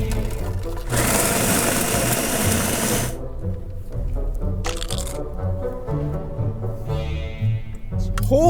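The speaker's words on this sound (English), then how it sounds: "I'm gonna take this, and I'm gonna blend it in the blender" Blender whirring loudly through In-N-Out fast food for a couple of seconds, then stopping; the rest is clattering and handling noise close by.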